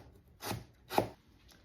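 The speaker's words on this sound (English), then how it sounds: "Gonna slice my galangal." A knife slices through fresh galangal on a cutting board for a Cambodian lemongrass beef stew, two distinct close chops about half a second apart, then quiet.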